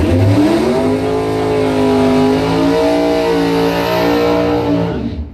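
A Camaro drag racing in a bracket points event roars past at full throttle, its loud engine drone holding steady before cutting off abruptly at the end, with no voices over it.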